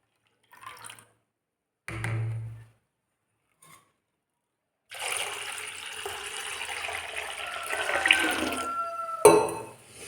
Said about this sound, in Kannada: ಇದನ್ನು ಮತ್ತೆ ಚೆಲ್ಲಿ ಬೇರೆ ನೀರನ್ನು ಹಾಕಬೇಕು